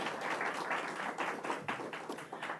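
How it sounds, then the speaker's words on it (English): A crowd applauds steadily at a speech by New York Governor Kathy Hochul, dense overlapping claps rising and falling in waves, heard from a moderate distance without talk. "Give him a round of applause"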